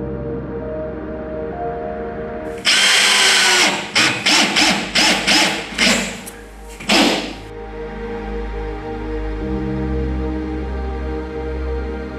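A power drill with a diamond bit cuts into porcelain tile in a bathroom renovation, a loud grinding whine in several short stop-start bursts over about five seconds, close up, with no talking.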